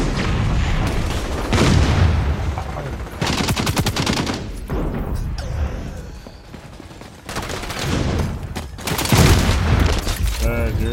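Explosions and gunfire from the XDefiant video game, including a flashbang grenade going off, come in loud repeated bursts across the clip with game sounds throughout.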